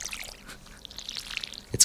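Watering can pouring water in the farming video game Stardew Valley, a short soft splashing trickle under background game music, ending with a brief louder thump.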